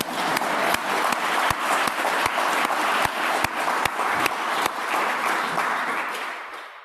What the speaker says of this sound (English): you want to clap now?